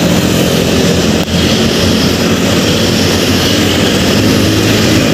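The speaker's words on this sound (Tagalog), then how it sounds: "So ito po yung naglanding na helicopter" Loud, steady engine and rotor roar of a helicopter that has landed at NAIA Terminal 4 airport, a continuous dense drone filling the whole stretch with one brief dip early on.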